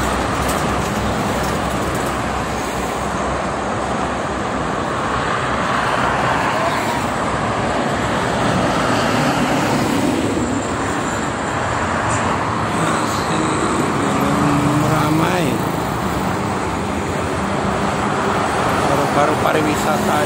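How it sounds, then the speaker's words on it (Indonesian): Private cars and trucks on the Cikampek toll road on a foggy Saturday morning, a continuous loud wash of passing traffic and engine rumble, with people talking over it. "Ini mobil pribadi sama truk nih di Sabtu pagi."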